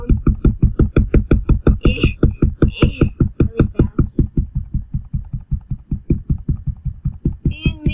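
Computer keyboard keys click in a rapid, even stream of sharp, close taps, loud and continuous, with a few brief sounds above the clatter and no clear talk.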